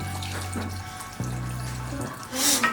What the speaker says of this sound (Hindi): ठंडा पानी हो